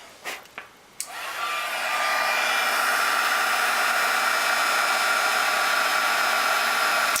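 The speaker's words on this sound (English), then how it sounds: "We're going to heat that up with the heat gun." A heat gun used to melt silver embossing powder switches on after a few small clicks and handling taps, then blows a steady, loud, airy whoosh with a faint whine held throughout.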